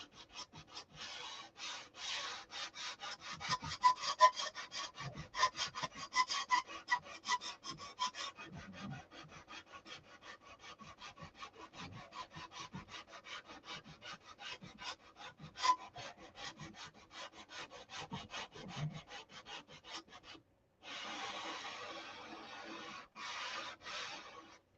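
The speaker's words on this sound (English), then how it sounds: "you're trying to sand the ribs into the trailing edge" Sanding wooden ribs into a Viper aircraft's trailing edge, a steady quiet rasping of rapid back-and-forth strokes with occasional low knocks, pausing briefly before a final smoother stretch of sanding.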